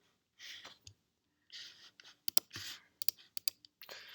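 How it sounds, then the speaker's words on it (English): Sharp, close mouse clicks land on the Add button of a Django form-maker page, several quick dry taps among soft breathy hisses in an otherwise quiet room. "And then here you can click on Add button."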